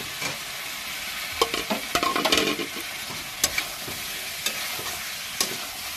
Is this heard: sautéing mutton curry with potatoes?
yes